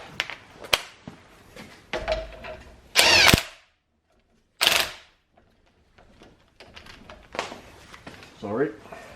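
Two short bursts from an air impact gun spin up on a VW T6 coilover hub, each a loud rattling whirr lasting about a second, separated by a pause and surrounded by clanks of tools and someone talking.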